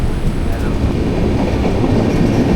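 A loud, steady rumble of a train pulling out of a station near Ratnagiri, with rolling wheel noise close by, continuous throughout.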